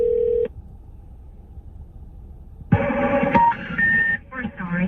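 Touch-tone phone being dialed to place a call: a few short dialing beeps and steady tones come in bursts near the start and again in the second half, with a quieter pause between them.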